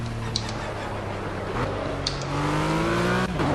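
A RUF CTR3 SMS-R race car engine in the video game Project Cars, on the Azure Coast track, revs and climbs in pitch as it accelerates, with brief tire squeals cutting through the steady motor drone.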